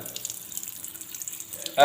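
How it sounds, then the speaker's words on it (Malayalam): Water runs from a wash basin tap in a steady, soft hiss, with a brief louder splash at the very end. "നല്ല രീതിയിൽ സ്പ്രെഡ് ആയിട്ടാണ് വെള്ളം വരുന്നത്"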